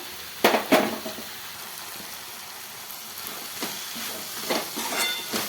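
Ridge gourd and soaked moong dal sautéing in a pan, giving a soft steady sizzle with a few sharper scraping stirs near the start and more toward the end; no talking.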